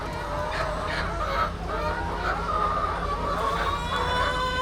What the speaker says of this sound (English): There's all the chickens